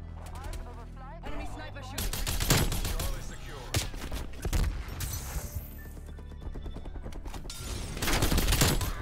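Rifle shots from a DMR 14 in Call of Duty: Cold War, cracking in bursts across a busy game mix, with stretches of music and other in-game sounds around them.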